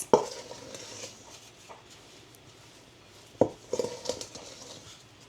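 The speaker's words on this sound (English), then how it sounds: "Go ahead and gently fold these in until well combined." Peanut butter chips are folded into keto cookie dough with a flat spatula, giving a few sharp scrapes and taps against the bowl separated by quiet, soft stirring.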